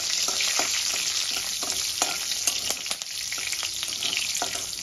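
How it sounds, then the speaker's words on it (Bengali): Black cumin and slit green chillies frying in oil in a wok: a steady, close sizzle with repeated light stirring taps and scrapes, no speech. "ফোড়নটা একটু ভেজে নেব।"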